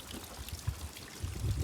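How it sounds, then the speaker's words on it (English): Water from a stream at an Appalachian Trail river crossing flows and trickles steadily nearby, a soft continuous rushing with a few brief gurgles, heard alone with no talking. "River Crossin."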